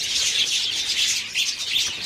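Java sparrows kept as caged pet birds chirp in a dense, steady stream of high, thin tweets, close and fairly loud, with no talking.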